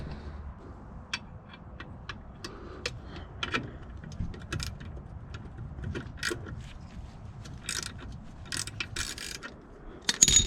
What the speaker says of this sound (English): you might have to hold that with a box wrench to get it off